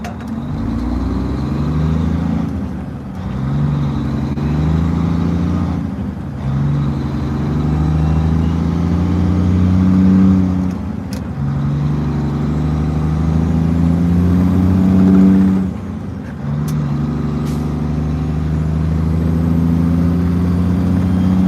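A loaded truck pulls away from a stop, its engine loud and close, with a deep, rising drone that climbs through several gear changes and drops briefly between them.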